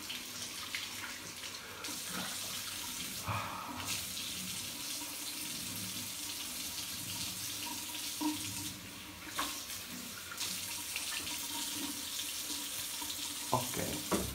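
Water runs steadily from a shower during a traditional wet shave, a continuous hiss with a few brief knocks and shifts in flow.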